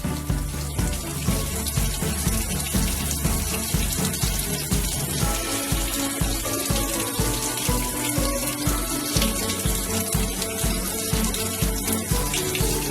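Water running steadily from a bathroom tap while someone wets their face, a loud, close, continuous splashing rush with no talking.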